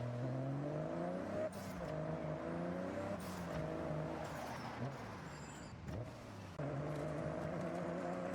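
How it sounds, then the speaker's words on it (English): A Nissan Skyline GT-R R34 engine hums steadily on a dark road lined with trees, with a rising and falling drone and brief breaks in the sound. "the sound of the engine moving through the silence"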